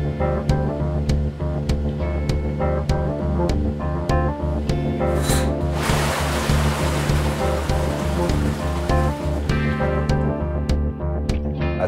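Collected maple sap dumps out of a sap extractor at a sugar shack, a steady rushing, splashing gush of liquid that swells loudly in the middle, over a constant mechanical hum with regular clicking.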